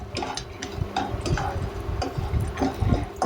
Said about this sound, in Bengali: এবার আমি বড়িটাকে একটু লাল লাল করে ভেজে নিচ্ছি।